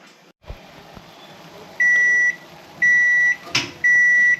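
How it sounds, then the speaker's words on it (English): A kitchen timer beeps three times in steady long tones during a one-minute boil of dandelion jelly, with faint kitchen clatter and a brief knock between the beeps. "We are going to set a timer for 1 minute."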